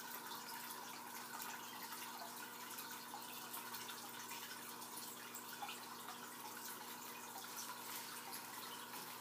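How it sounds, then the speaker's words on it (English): Water from a cichlid fish tank being dumped out, a steady, faint rushing and splashing flow that continues evenly throughout with no voices. "I'm gonna dump this water really quick."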